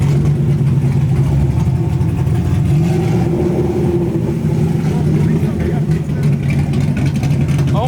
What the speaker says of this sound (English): We got a 570 Spider rolling up, man.